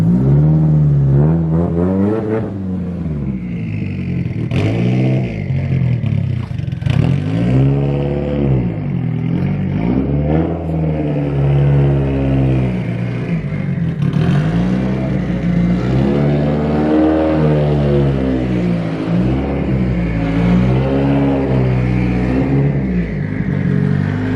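A Mitsubishi Evo 8 fitted with a Tomei Expreme titanium exhaust revs repeatedly, loud and close, with throaty rises and falls in engine pitch between brief idle dips, no talk.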